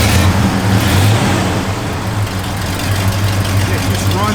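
A 1969 Pontiac Grand Prix J engine idles with a steady, low rumble, loud and close, holding an even pitch throughout.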